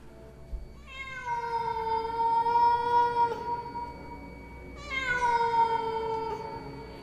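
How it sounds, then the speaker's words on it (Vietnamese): A cat yowls mournfully at night near a village, two long drawn-out wailing cries one after the other, loud and close with no voices. "Ở bên ngoài phụ cận quanh thôn vang lên tiếng mèo kêu đến thê lương, nghe vào mà rợn hết cả người."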